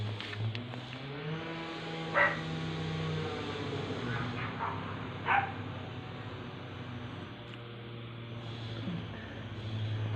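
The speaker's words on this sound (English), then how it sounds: "Even the dogs are barking outside" A couple of distant dog barks ring out over a steady low background hum, faint and spaced apart.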